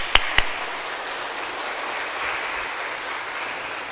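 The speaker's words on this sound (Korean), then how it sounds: "격려하는 의미로 큰 박수로 격려해 주시기 바랍니다" Church congregation applauding together in a steady, broad wash of clapping that holds for several seconds, with a couple of sharp knocks right at the start.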